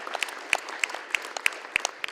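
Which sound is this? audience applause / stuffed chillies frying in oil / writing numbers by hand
audience applause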